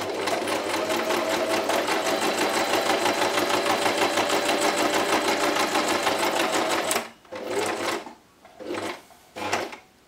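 A sewing machine stitches around the edge of a paper base card in a fast, even mechanical chatter for about seven seconds. It then stops and restarts in three short bursts with pauses between them. No voices are heard.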